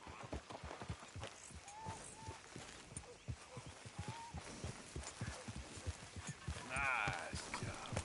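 A horse's hooves clip-clop steadily in the video game Red Dead Redemption 2, a quick regular gait of crisp, close hoofbeats over a soft ambient background.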